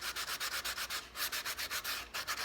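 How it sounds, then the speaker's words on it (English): Hand sanding smooths the glued edges of a hollowbody guitar's wooden body, a steady back-and-forth rasp of paper on wood in quick, even strokes with brief pauses, close and continuous. "There's a lot of this hand sanding."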